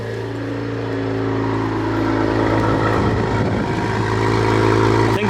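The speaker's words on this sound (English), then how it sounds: "It's a cold start." Cadillac CT4-V Blackwing on a cold start, its engine running at a loud, steady, high-idle drone close by that swells slightly over a few seconds.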